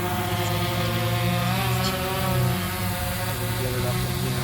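DJI Phantom 4 Pro V2 drone lifting off in an open field, a steady, loud multi-rotor propeller drone with harmonic whine holding close and constant throughout.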